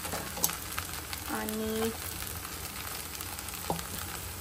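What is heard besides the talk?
peanuts and fried potatoes sizzling in pan for poha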